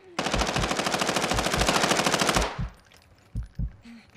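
A sustained, rapid burst of machine gun fire in a video game, loud and close for about two seconds, then a few dull thuds afterward.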